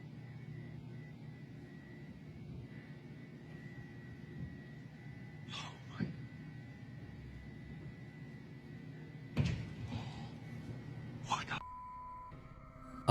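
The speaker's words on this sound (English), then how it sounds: "A loud bang echoes from the ceiling" Several sharp, loud bangs strike a ceiling inside a deserted former business building, arriving in separate bursts a few seconds apart over a low steady hum.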